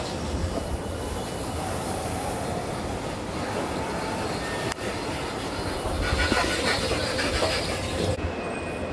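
Inside Paris Gare du Nord train station, trains rumble continuously and loudly with rolling wheel noise and faint metallic squeals, filling the whole stretch of sound.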